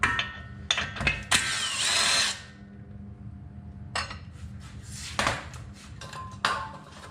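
A power tool works the outer nut on the front brakes of a 2005 Subaru Outback, with short loud whirring bursts, a longer run, then more bursts and clanks of metal in a garage.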